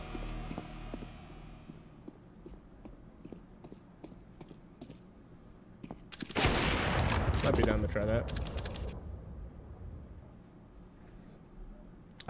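Counter-Strike gunfire: scattered faint shots early, then a loud dense burst of rapid automatic fire for about two seconds midway, fading to quieter game ambience afterward.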